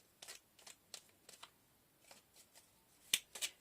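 Tarot cards are shuffled and drawn in a series of quiet, crisp riffles and slaps, roughly a dozen short bursts spaced irregularly, ending in two sharper flicks, no voice over them.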